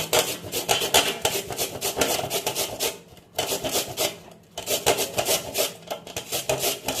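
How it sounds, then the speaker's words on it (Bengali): Peeled potatoes rubbed against a kitchen grater to make crisp chips, a close rhythmic rasping in repeated strokes with short pauses between passes. "আমি এবারে গ্রেটারের সাহায্যে এটাকে গ্রেট করব। এই দিকটা দিয়ে আমি এটাকে আলুটাকে গ্রেট করে নেব।"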